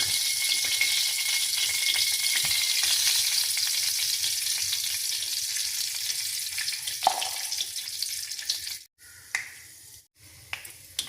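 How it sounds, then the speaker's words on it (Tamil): Mustard seeds crackle and pop in hot oil for a fish curry, a dense, steady sizzle with sharp little snaps throughout, close and loud, thinning out toward the end with a few brief louder stirs and clinks. "இப்போது நாங்கள் எண்ணெய் கொஞ்சம் விட்டு இப்போது நாங்கள் கடுகு சேர்த்துக்கிறோம்."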